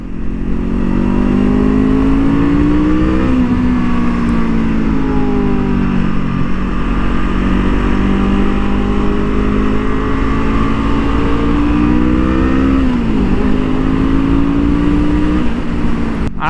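A 2023 Honda CL 500 motorcycle roars loudly and continuously on a racing track, its engine pitch climbing through the gears with a couple of brief dips at the shifts, close and dominant throughout.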